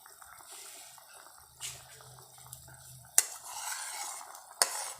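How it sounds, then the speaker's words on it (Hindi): Peas and ginger go into a pan over medium heat, with soft stirring and a faint sizzle. Two sharp metallic clanks of a spoon on the pan ring out near the end. "ये मटर भी ऐड कर रही हैं इसमें।"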